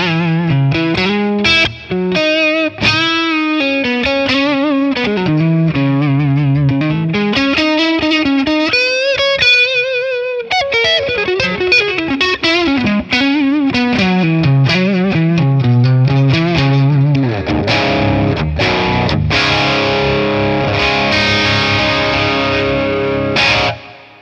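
An electric guitar through a Matchless Laurel Canyon amp tone with added reverb plays bending, sliding melodic lines with a lingering, spacious reverb tail, then shifts to strummed chords; loud and continuous with no voices.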